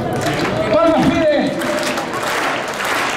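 Crowd clapping in the stands at a bull-leaping event in Valladolid, a broad continuous patter of applause under a loud excited announcer's voice.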